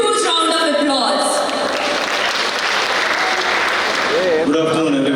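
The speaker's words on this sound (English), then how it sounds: "Let's welcome our esteemed chief guest with huge round of applause." Loud, dense applause from a large college audience welcoming the chief guest at an institute of technology ethnic day, with voices audible at the start and end.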